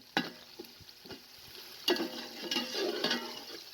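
Onions fry with whole garam masala over a medium flame for chicken pulao. A steady low sizzle runs throughout, punctuated by several sharp scraping taps of a stirring spoon against the pot, with no speech.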